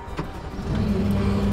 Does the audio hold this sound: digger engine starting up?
yes